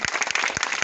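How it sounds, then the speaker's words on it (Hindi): Short burst of enthusiastic applause from an audience at a Samta Sainik Dal gathering in Sitapur, dense steady clapping throughout with a few louder claps near and no clear speech. "जोरदार ताली हमारे सभी"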